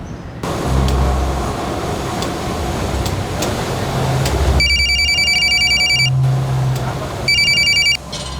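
A telephone rings in two bursts of electronic trilling over a steady background hum of traffic, fairly close and loud, with no talking.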